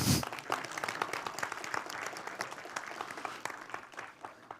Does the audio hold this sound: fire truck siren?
no